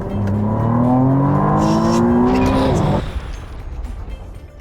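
A McLaren sports car with a V6 engine accelerates hard, its loud rising roar close by for about three seconds before cutting off abruptly, leaving quieter road noise and faint rustling.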